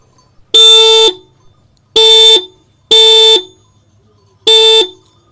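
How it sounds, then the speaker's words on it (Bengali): A Hero Glamour X 125cc motorcycle horn sounds four loud, close bursts, each about half a second long, at irregular intervals with quiet between them. "হর্নের আওয়াজটা একবার শুনিয়ে দিই, তাহলে তোমরা বুঝতে পারবে।"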